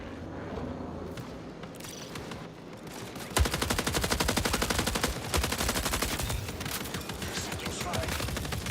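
Gunfire from the video game Marathon, first scattered shots, then a dense, rapid automatic burst of sharp cracks that keeps going at close range and loud volume, with faint game sounds behind.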